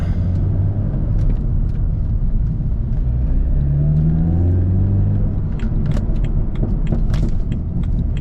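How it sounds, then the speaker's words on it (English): A BMW Z4 engine idling and revving in a low steady rumble, with a few sharp pops near the end. "just to test the engine"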